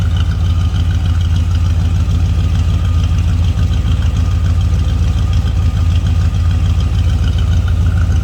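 A 1970 Chevrolet Chevelle engine idles loud and close, a steady low rumble with an even pulsing throb that holds throughout, no voices over it.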